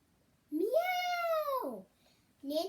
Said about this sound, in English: She saw Marshmallow the cat padding around the room.